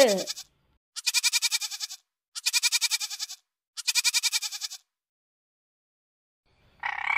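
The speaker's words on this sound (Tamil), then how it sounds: "வெள்ளாடு" A goat bleats three times in long, wavering, nasal calls, evenly spaced, loud and close with nothing else behind them.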